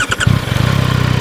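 A Yamaha MT-09 motorcycle with an automatic gearbox starts up: a brief starter whirr catches into a loud, close engine idling with a steady, rapid pulsing rumble.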